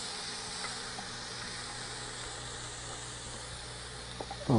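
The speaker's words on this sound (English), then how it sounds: "I'm just going to add now all the ingredients that I have in my bowl, and I just add it to the butter." Wild rice, shiitake mushrooms and vegetables go into hot butter, a faint steady sizzling hiss that swells into a louder burst right at the end.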